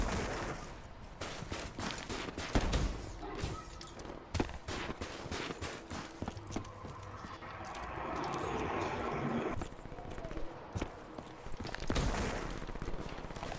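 Rapid bursts of gunfire from an online shooting video game crackle almost continuously, with dense overlapping shots and louder clustered volleys, no voices.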